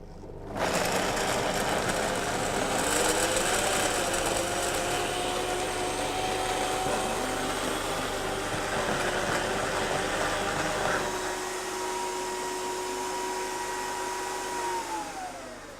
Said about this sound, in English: We just need to blend it all the way until it's nice and smooth